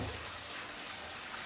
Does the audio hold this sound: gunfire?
no